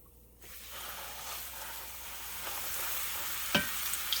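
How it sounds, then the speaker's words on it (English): A pot roast laid in a hot pan with a little oil and flour sizzles steadily, the searing hiss starting abruptly and building into a continuous close fry, with a brief clatter near the end. "you're just gonna lay your roast right in that pan."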